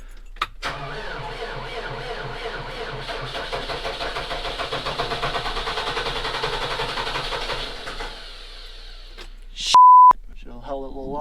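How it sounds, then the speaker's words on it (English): Tractor engine cranking and cold starting in bitter cold at -18 degrees, a long steady grinding crank for about eight seconds, then it cuts off, followed by a short electronic beep and a brief voice. "So this tractor's gonna need 20-30 minutes to warm up."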